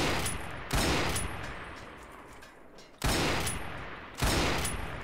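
Enemy gunfire in the video game Fallout 3: three sharp, loud shot bursts, each decaying over a second or two, the later two spaced closer together, with no talk.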